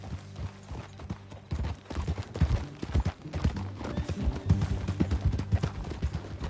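Horse hooves clip-clop in a riding video game as riders set off together. Uneven hoofbeats from more than one horse grow busier and louder after the first second, with a few sharper knocks and no speech over them.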